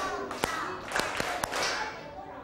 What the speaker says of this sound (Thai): เอาใหม่ปรบมือ5ครั้ง